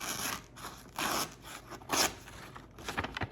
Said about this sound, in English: Let's do our little paper cutting shaving test.